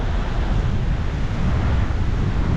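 Heavy surf and strong wind on a Boracay beach, a steady loud roar of breaking waves and gusts buffeting the microphone, with no voices.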